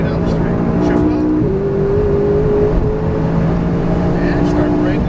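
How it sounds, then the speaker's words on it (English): McLaren 570S at full throttle down the straight of a race track in Fontana, California, its engine droning loud and close, with rising pitch that steps down at each upshift. "full throttle all the way down the straight. Shift up,"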